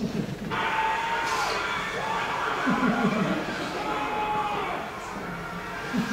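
About 500 people in a mission control room cheer and applaud the Curiosity rover's Mars landing, a dense, sustained din of clapping and excited shouting with voices rising through it.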